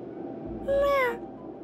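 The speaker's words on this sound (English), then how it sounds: "Oh, it's a meow." A single clear cat meow in the video game Honkai: Star Rail rises and then falls in pitch, lasting about half a second over a quiet background hum.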